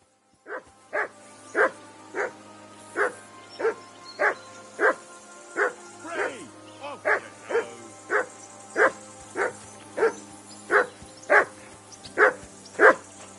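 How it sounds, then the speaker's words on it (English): A dog in the video game Kingdom Come Deliverance II barks about twenty times in a steady, evenly spaced run, each bark sharp and fairly close, with no voices over it. "Call off that damn dog!"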